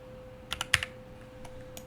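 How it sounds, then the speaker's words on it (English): Fingers tap a computer keyboard in a short, quick burst of several sharp clicks, then a few scattered keystrokes follow in a quiet room with a faint hum. "It's because I'm not typing it right."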